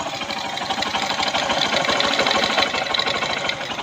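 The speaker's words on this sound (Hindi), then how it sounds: "तो हमने पूरा इंजन फिट करके स्टार्ट भी कर दिया है" A TVS Star motorcycle engine idling after kick-start shaft repair, a close, loud, rapid rhythmic putter running steadily with no talk.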